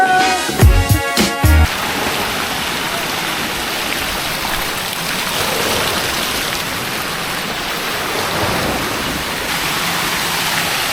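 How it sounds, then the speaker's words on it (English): Waterfalls splash steadily beside a resort lazy river at Planet Hollywood Cancun, a continuous broadband rush of falling water, with a few brief louder knocks near the start. "And there's like loads of these like waterfalls scattered around."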